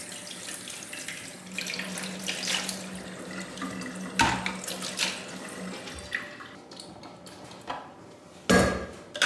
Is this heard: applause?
no